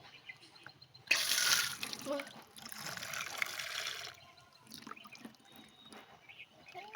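Freshly picked coriander leaves are rinsed under running tap water, with a steady splashing rush lasting about three seconds, fairly loud and close, then dropping back to faint background noise.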